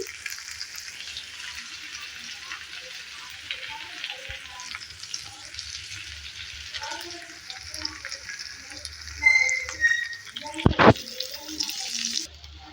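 Drumstick leaves mixed with peanut powder are stir-fried in a pan, giving a soft, steady fry hiss with quiet scraping and a couple of louder spatula knocks near the end; no one talks.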